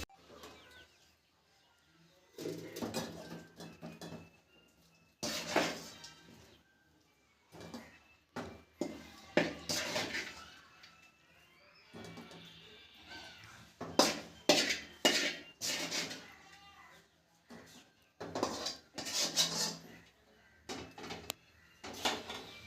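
Pots and dishes clank and scrape in scattered bursts, with pauses between handling sounds. Nearby, moderately loud, with no one talking.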